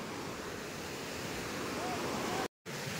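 A fast-flowing river near Tawang rushes steadily and loudly as a continuous broadband roar, uninterrupted apart from one brief dropout near the end.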